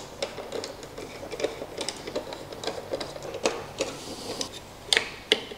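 Hand screwdriver driving screws to fit a headlight guard on a BMW R1250GS motorcycle, a run of small close clicks and ticks in irregular rhythm, no talking.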